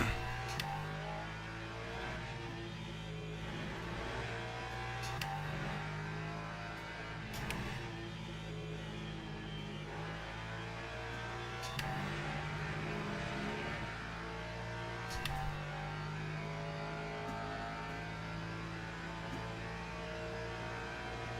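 Steady car engine drone with a rhythmic rise and fall, as if revving or cycling through gears repeatedly, moderately loud and continuous for the whole stretch without any speech.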